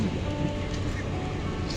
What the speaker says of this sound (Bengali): সাদে প্রচুর বৃষ্টি হচ্ছে